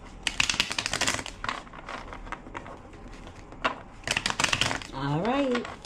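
Tarot deck being shuffled in a few quick bursts of soft card riffling and tapping, close and fairly quiet, with a voice coming in near the end.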